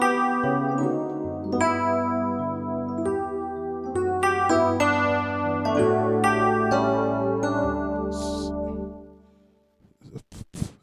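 Electric piano tone 41 from the Ultimate Piano plugin plays a run of chords and bass notes for a Ghana local worship song, ringing and moderately loud, fading out before a few brief, sharp sounds at the end.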